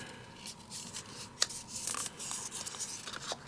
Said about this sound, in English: And then we're just going to score it on those lines.